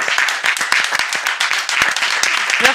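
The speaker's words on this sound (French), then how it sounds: "On peut déjà s'applaudir une dernière fois." A studio audience on a talk show claps together, the individual hand claps sharp and distinct in a brisk, uneven rhythm, fairly close and lively for a few seconds, with faint voices among them.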